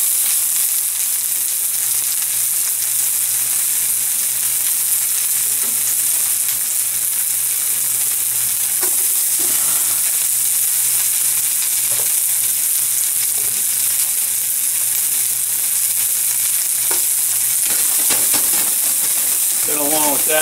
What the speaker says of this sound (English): Then along with that, I'm going to fry up some chopped meat.